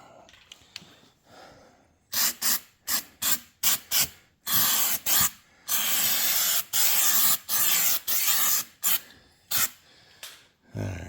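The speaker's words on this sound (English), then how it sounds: "Get undercoating on the F-150 here" Undercoating is sprayed under a Ford F-150 pickup in loud, close hissing bursts, a dozen or more of them, some short and some held for a second or two.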